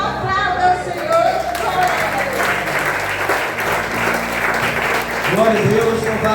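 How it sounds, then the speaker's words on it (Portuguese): A church congregation claps together in praise during a Sunday service, a loud continuous patter of many hands, with a low sustained musical tone underneath and occasional voices rising over it. "Aplauda o Senhor."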